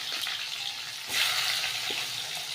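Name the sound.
onions frying in hot oil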